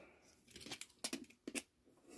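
A blade slicing off the folded flaps of a cardboard box, a few short scraping cuts in quick bursts, close and fairly quiet with pauses between strokes.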